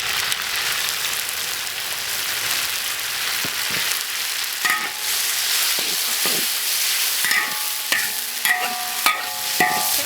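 Chopped chili and dried chili stir-fried in hot pork fat in a wok: a dense, even sizzle like rain, with scattered scraping and clanking of the spatula growing more frequent toward the end, no speech.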